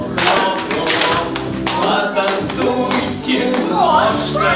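Children and parents at a children's theatre show clap hands along to a song, a dense, lively burst of many hands close by, steady throughout with faint voices mixed in.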